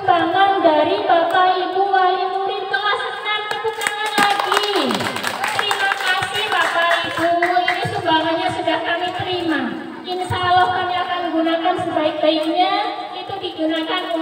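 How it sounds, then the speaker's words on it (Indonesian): Sustained clapping from parents and pupils at an elementary school graduation and class-promotion ceremony at SDN Matenggeng 03, steady and fairly loud under music and chatter, with a brief louder burst partway through. "Tepuk tangan lagi."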